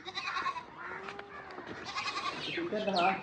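Several goats on a village farm bleat repeatedly around feeding time, some close and some farther off. Their calls overlap with a person talking, and the bleating grows louder toward the end.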